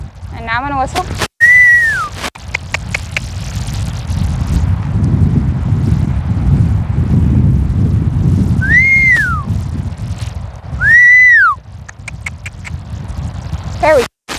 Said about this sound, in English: And now I'm going to whistle.